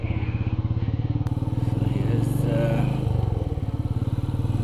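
A motorcycle rides on a long highway trip from Mumbai to Tulja Bhavani Temple, with a steady, loud, throbbing engine drone throughout and a brief clack partway through.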